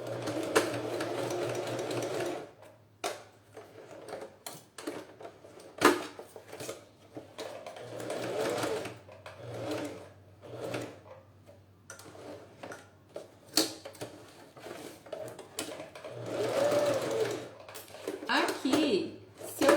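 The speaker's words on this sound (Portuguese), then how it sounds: "Vou vir aqui e vou passar uma costura." Sewing machine stitching fabric while making a university tote bag, running in close rhythmic bursts of rapid ticking that start and stop, with someone talking over and between the runs.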